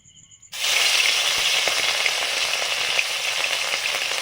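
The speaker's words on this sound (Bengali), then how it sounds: "মাছগুলো ভাজবো আগে যেগুলো মাখার জন্য সাইজে ছোট মাছগুলো হালকা ভেজে নেব" Small pond fish drop into hot oil in a newly used iron wok and break into a sudden, loud, continuous frying sizzle that holds steady close by, with no talking.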